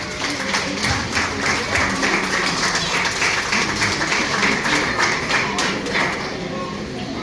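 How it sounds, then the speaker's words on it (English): An audience at a basic school graduation claps for a child, dense sustained applause with cheering and voices mixed in throughout. "clap the child"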